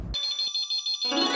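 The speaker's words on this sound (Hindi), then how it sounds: "वाह, 3 दिन के बाद फोन की घंटी सुनी।" Telephone ringing indoors, a bright electronic warble with a buzzing tone that cuts in and out, loud and close with no talking over it.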